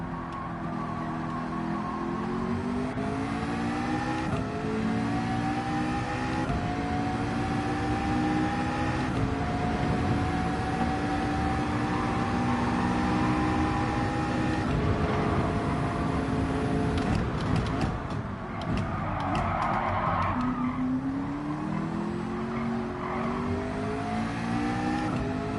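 A Group 4 race car in Gran Turismo 7 revs hard through the gears, rising pitch sweeps repeating with short shifts, loud and continuous, with a brief tire squeal midway.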